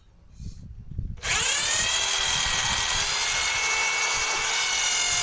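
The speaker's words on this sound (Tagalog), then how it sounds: "Gumamit tayo ng barina para butasan yung kahoy" An electric drill suddenly spins up and bores steadily into a piece of wood, a loud, sustained whine that holds constant after a brief quiet start.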